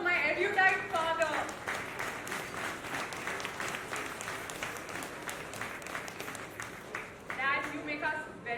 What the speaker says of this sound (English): A round of applause for my erudite father.